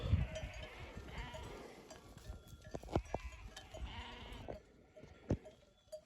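Faint sheep bleats scattered over quiet outdoor background noise, a few short calls rising at intervals at a distance.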